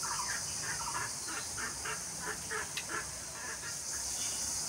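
Four pigeon chicks peep in quick, repeated bursts close by, a steady run of thin calls over a faint background hiss.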